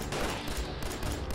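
Automatic weapon fire in Fallout 4: a rapid, continuous burst of shots rattles without a break for the whole short stretch, loud and close.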